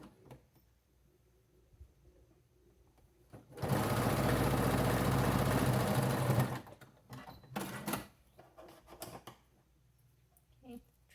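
A sewing machine runs a slightly long straight stitch, a loud steady mechanical whirr lasting about three seconds, bracketed by quiet handling noises and soft clicks before and after.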